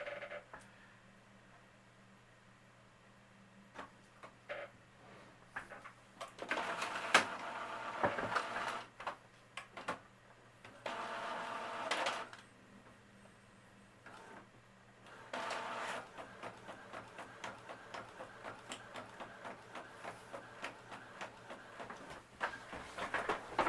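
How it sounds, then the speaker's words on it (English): An Epson ET-4760 inkjet printer printing a page, with its mechanism whirring and a steady run of rapid clicks and ticks as the printhead shuttles, fairly quiet and close with no talking. "while that's printing, I'll show you this"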